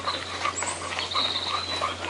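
A dog in the VRChat video game gives short, soft whimpering yips several times in quick succession over a faint steady hum.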